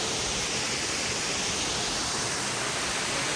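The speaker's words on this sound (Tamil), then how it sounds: "அப்படி அழகாக கொட்டுது தண்ணி." North Falls waterfall roars as a steady, dense wash of cascading water, loud and close, with no pause and no voices over it.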